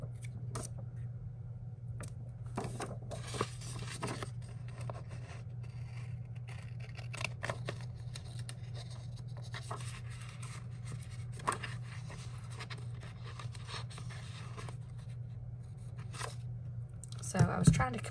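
Soft, irregular snips and paper rustles over a steady low hum, with faint handling noises scattered throughout.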